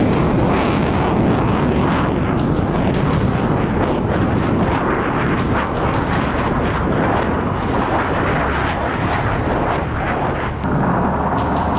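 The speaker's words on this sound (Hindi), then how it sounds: "अमेरिका का एटमी धमाका।" An American nuclear bomb test explosion, a continuous loud roaring rumble with repeated crackling blasts throughout, dense and sustained, no talk.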